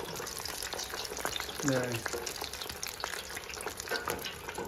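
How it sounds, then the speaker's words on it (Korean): Boneless chicken fries in oil inside a tabletop auto-lift fryer, giving a dense, steady sizzle and crackle close up, with a brief bubbling swell partway through and a short spoken word. "뚜껑과 함께 바구니가 기름에 잠겼습니다."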